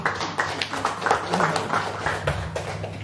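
An audience at an indoor basic-literacy workshop claps in a loose, uneven burst of individual hand claps, with speech audible beneath them.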